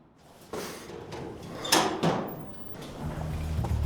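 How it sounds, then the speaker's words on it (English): A door opens with a short series of close creaks and knocks, one louder clack in the middle, followed by a low rumbling scrape. "The door opened just a crack"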